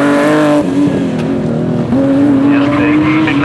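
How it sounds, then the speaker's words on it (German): A BMW E28 rally car at a rally sprint in Straubing roars loudly past with a sustained high engine note, shifting and dropping briefly before climbing again, with faint crowd or commentary underneath. "Polzmacher macht hier mehr Platz, lässt den BMW vorbei"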